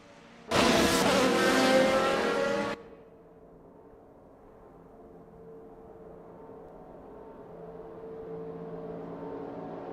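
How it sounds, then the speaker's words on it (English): A GT race car screams past at high revs on the Hockenheim circuit in the Assetto Corsa racing game, loud for about two seconds before cutting off, then other engines drone and build slowly in the distance. "I love listening to the roar of these engines."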